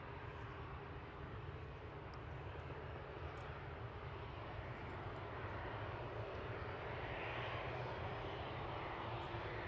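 TUI passenger jet departing Manchester Airport for Agadir, a continuous distant engine rumble and broad roar that swells slightly toward the end, with no talk.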